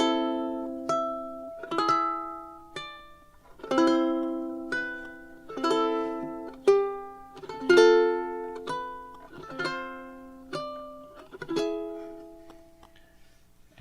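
Slow fingerstyle ukulele playing God Rest Ye Merry Gentlemen, plucked notes and light chords ringing out alone in a steady, unhurried rhythm with no talking.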